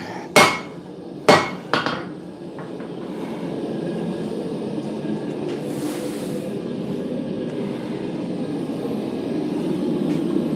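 Three sharp hammer blows land on Damascus steel being forged by hand, loud and close at the start, then a steady low roar, likely the forge, fills the rest of the clip.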